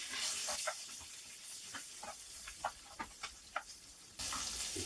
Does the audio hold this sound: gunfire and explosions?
no